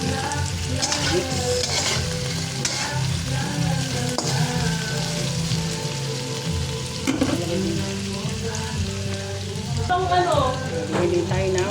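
Fried tofu and water spinach stir-fried in a pan, a steady loud sizzle with scraping and tossing of a utensil throughout, with occasional faint talk.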